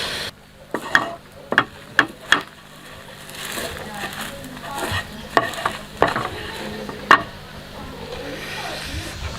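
Coca-Cola boils down in a pan with a constant low sizzle, broken by sharp clacks of stirring against the pan, while a voice talks over it.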